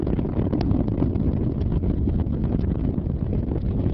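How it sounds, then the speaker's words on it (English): Space Shuttle Discovery's engines roar through ascent on the STS-121 launch, heard from inside the cockpit as a dense, steady, rumbling wall of noise with constant buffeting and no pauses. "Engines beginning to rev up."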